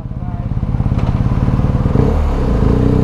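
A Reed SVT 650X motorcycle engine runs close by with a loud, steady, rapid throbbing pulse that swells slightly toward the end.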